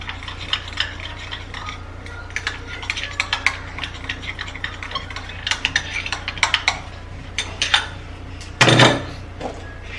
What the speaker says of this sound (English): And then I'm gonna turn that into my baking soda and petroleum jelly, and then give it a fine stir.